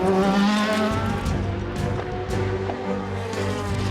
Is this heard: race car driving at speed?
yes